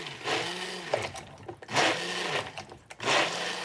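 A stick blender whirs in three short bursts with brief pauses between, its motor buzzing loudly up close while mixing thick liquid soap.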